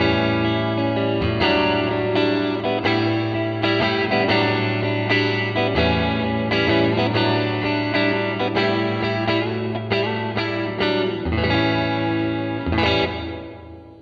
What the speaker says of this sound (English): I added a little bit more reverb, a little bit more effects level, and a little bit more decay